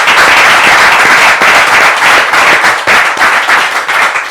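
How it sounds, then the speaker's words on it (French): A live studio audience at a French-language Christian public broadcast applauds loudly and steadily, a dense, continuous wash of clapping that fills the whole stretch with no talk over it. "On peut applaudir très fort."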